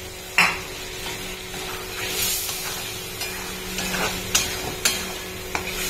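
Potatoes go into a hot pan with turmeric and salt and start frying, with a sharp clatter of the pieces landing, a soft steady sizzle, and a few later knocks of a spoon against the pan.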